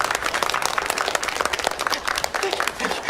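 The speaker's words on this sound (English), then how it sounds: "The clapping's a little loud." An audience claps loudly and continuously in dense, crackling applause, with a voice speaking faintly underneath.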